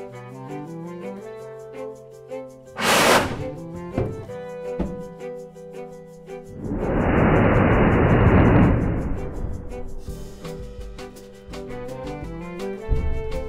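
Methanol vapor ignites inside a container, giving a sudden fireball roar that swells and pulses for a couple of seconds over a background of music.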